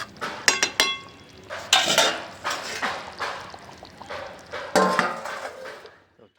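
Metal clanks and scrapes of a lid going onto a cooking pot of chicken curry, several close sharp knocks in a loose cluster over a quiet kitchen background.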